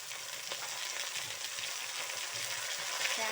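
Okra, eggplant, cabbage and tomato fry in hot oil with a steady, dense sizzle, with occasional soft scrapes of stirring close by and no voices.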